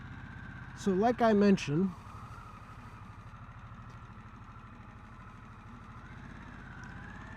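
A 2021 Harley-Davidson Sportster S idles steadily with a low rumbling pulse, while someone speaks briefly over it near the start.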